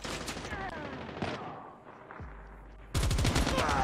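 Hip-fired gun in Call of Duty Mobile, rapid bursts of close gunfire with quick rattling shots, a brief lull, then a loud renewed volley at the end.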